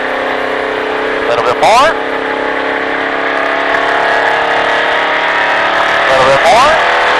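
A NASCAR race car on track in Las Vegas, its engine droning loud and steady from close inside the car, with two sharp revving swells as the throttle is worked, while a voice coaches over it.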